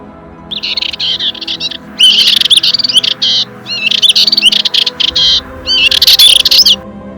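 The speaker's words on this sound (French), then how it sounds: "ma copine, la fauvette Pichou." A warbler sings loudly and close in open countryside at Ploufragan, Côtes d'Armor, repeating bursts of bright, rapid trills and chirps in phrases broken by brief pauses, with no other voices.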